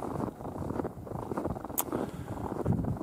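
Steady wind rushes and buffets against the microphone, a low rumbling roar with gusts throughout.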